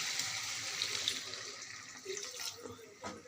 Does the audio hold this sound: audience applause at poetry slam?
no